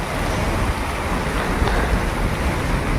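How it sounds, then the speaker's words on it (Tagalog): Heavy rain pours down with gusty wind, a dense, steady roar filling the whole clip at close range with no voices. "sobrang lakas talaga ng ulan"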